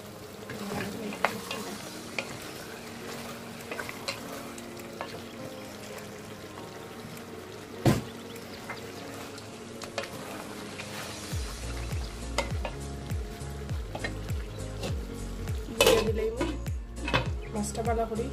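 Rohu fish goes into a simmering mukhi curry in a pan, bringing a low bubbling sizzle, occasional spoon knocks and scrapes, and a brief pour, with a person talking over parts of it.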